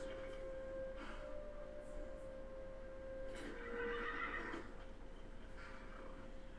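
A horse in the video game Skyrim whinnies a couple of times, with bursts of neighing over a quiet backdrop of game ambience; no speech.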